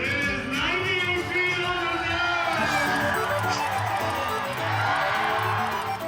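A large crowd of about 30,000 people cheers and whoops at the world's shortest St. Patrick's Day parade in Arkansas, a sustained roar under voices speaking nearby.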